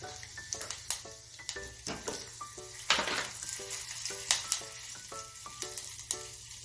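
Cumin seeds crackle in hot oil, then coriander powder and turmeric join in, making a steady close sizzle punctuated by sharp pops and spits over a low constant hum.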